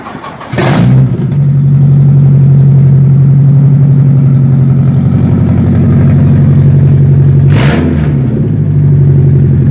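Nissan 240SX with a swapped V8 and the exhaust removed starts up, then idles loud and raw with a steady low rumble, punctuated by a sharp rev blip near the end before settling back to idle.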